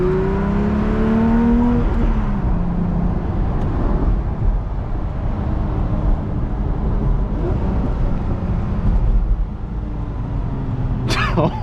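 A Porsche Speedster engine revs and pulls hard close by, rising and dropping in pitch through several gear shifts inside the cabin, with a loud, continuous drive throughout.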